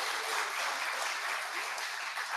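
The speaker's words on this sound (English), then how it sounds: "you can applaud for University of Houston" An audience gives a short, dense burst of applause for the University of Houston at an academic event, steady clapping from many hands throughout.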